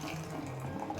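Hot water poured out of a porcelain gaiwan for a tea rinse, a steady continuous splash and trickle throughout, close and quiet.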